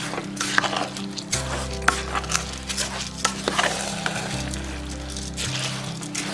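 In a Sri Lankan village kitchen, rice is stirred into milk in a pot for vegetable biriyani. Repeated scraping and sloshing stir strokes sound close over a low hum, with a few sharp ladle knocks and no talk.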